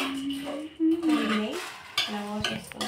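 Fish fries in a pan while a metal spoon stirs and scrapes it, making close clinks and scraping clatter over a faint sizzle, with a voice speaking briefly.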